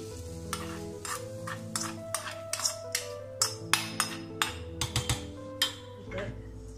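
Fried seasoning tipped into paniyaram batter and stirred, giving a series of sharp scraping and clinking spoon strokes against the bowl in an uneven rhythm, close and clear over a low steady hum.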